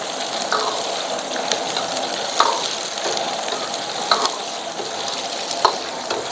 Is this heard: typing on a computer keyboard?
no